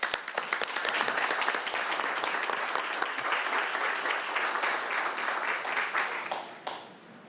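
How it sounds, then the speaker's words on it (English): Sustained audience applause at a Tacoma city council meeting during a proclamation, many hands clapping in a dense, even roar for several seconds before fading at the end. "please join me in giving a round of applause"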